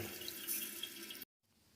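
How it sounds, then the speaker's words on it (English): Running water pours into a refilling Kohler toilet tank, a loud steady rushing stream that cuts off abruptly near the end, leaving only faint room noise. "That new one's filling way faster."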